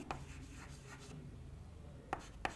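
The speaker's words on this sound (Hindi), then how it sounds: "यहां लिख देता हूं मैं" Chalk or marker writing on a board during a physics lesson, a faint continuous scratching with a few sharp taps, quiet and close.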